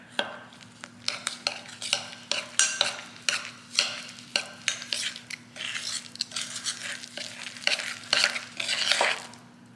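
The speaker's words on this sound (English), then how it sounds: "Mix these until it's mixed up together." Chocolate crème brûlée ingredients are stirred in a bowl, producing irregular scraping and clinking strokes of a utensil against the dish, close and moderately loud, over a faint steady hum.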